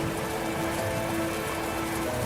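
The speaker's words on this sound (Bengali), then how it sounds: "ঝোড়ো বাতাস এবং বৃষ্টি একই রকমভাবে হয়েই চলেছে।" Stormy rain and wind beside the Ichamati river pour down as a dense, constant wash of rainfall, steady and enveloping with no pauses.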